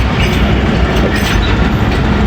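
Rehman Baba Express rolling onward after departing Jhelum, a loud continuous rumble of wheels and carriages with rhythmic clatter, heard close from on board.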